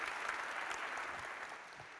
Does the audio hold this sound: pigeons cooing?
no